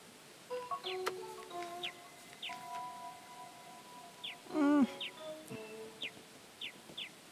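A bird squawks in The Little Acre game, several short rising calls spaced across the scene, plus one louder harsh squawk midway, over faint chimes and tones.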